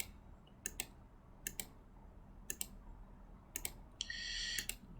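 Computer mouse clicks during software use, coming as crisp paired clicks, roughly four close-miked clicks spaced about a second apart over a quiet room hum.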